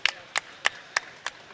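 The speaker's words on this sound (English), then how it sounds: "Let's give him a round of applause" A small audience round of applause at a Street Fighter 2 Turbo: Hyper Fighting tournament, heard as six sparse, evenly spaced claps rather than full applause, moderately loud with no talk.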